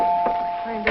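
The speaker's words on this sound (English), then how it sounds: "The front door bell." Front door bell of a house giving a steady tonal ring, with a faint second chime near the end.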